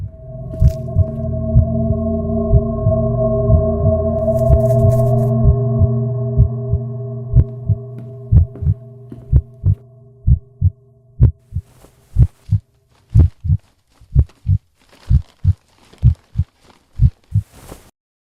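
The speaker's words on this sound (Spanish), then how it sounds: "es sobresaltado por fuertes latidos de corazón provenientes de la cocina" A heartbeat sound effect starts under a swelling low hum, then pounds on its own as loud, close, evenly paced thumps that grow sharper and more distinct.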